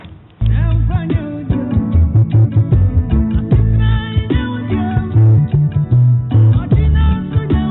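Ghanaian gospel song by an award-winning musician and sound engineer: a full, loud band track with a heavy bass beat and layered instruments that kicks in after a split second of quiet and plays on steadily, with no talking.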